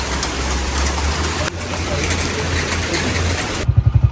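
Rain begins falling in the green mountains of Haveli district, Kashmir, a steady dense hiss of drops that fills the whole clip, ending with a few muffled low thumps close by.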